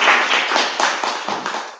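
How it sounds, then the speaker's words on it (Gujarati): A seated audience at a youth book-talk event applauds with brisk, even clapping from many hands, moderately loud and continuous throughout. "ફરી એક વાર તાળીઓથી વધાવીએ"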